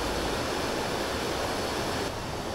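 A flowing waterfall roars as a steady, dense rush of water, loud and continuous throughout with no voices over it.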